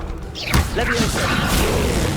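A Levioso levitation spell cast in a wizarding video game, a sharp whoosh and thud around the half-second mark followed by a sustained magical shimmer with mechanical effects, with speech over it.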